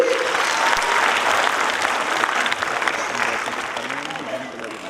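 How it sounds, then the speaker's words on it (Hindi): Loud, sustained applause from a crowd at a school annual function, many hands clapping together in a full, even wash that eases slightly over the last seconds. "जोरदार तालियां हो जाए everybody"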